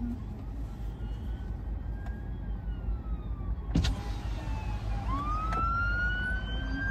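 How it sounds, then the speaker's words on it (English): A fire engine siren sweeps past on a motorway, rising and falling tones heard over steady road and car cabin noise, with a brief sharper burst midway. "Is that the fire engine?"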